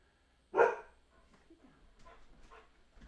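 A single sharp dog bark rings out close by in a quiet room, followed by faint whimpers and soft noises.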